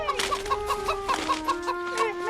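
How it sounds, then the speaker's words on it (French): A chicken loose in a medieval tent clucks in a quick, steady run of short bursts, close and fairly loud over a faint background hum. "C'est ma poule, messire! Elle s'enfuit de ma cuisine!"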